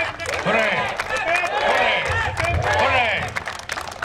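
Audience at a cricket league prize ceremony applauds and cheers together, a dense, steady burst of clapping with voices calling out over it, loud and close throughout.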